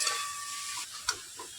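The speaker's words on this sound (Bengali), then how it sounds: "মশলার সঙ্গে কিন্তু আলু আর কিছুটা খুব ভালো করে কষিয়ে নিতে হবে" Potatoes and peas sizzling with spices in a wok, a steady close hiss of frying with a couple of soft stirring scrapes near the end.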